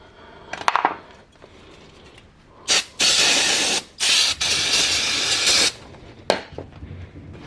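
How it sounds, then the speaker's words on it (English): Cleaner sprayed onto the rear brake pad pin of a Honda CBR600RR: a couple of short hissing bursts, then two long, loud sustained sprays with a brief break between, close up, with light handling clicks around them and no talking. "We want to spray and clean the rear pad pin."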